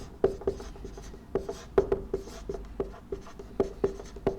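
An equation is written out by hand during a lecture on inverted pendulum dynamics, with sharp, regular taps and scrapes of each stroke landing every fraction of a second, close and fairly distinct, with no voice over them.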